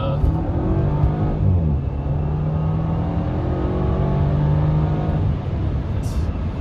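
A 2009 Audi A4 engine pulls hard under acceleration, a steady loud drone rising in pitch through the gears with a shift around the middle, heard from inside the car.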